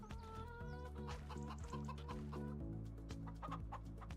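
Several chickens in Farming Simulator 25 cluck repeatedly and close by, with an electronic backdrop of steady tones underneath.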